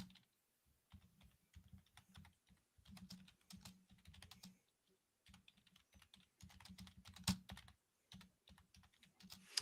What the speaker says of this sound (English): I see you typing there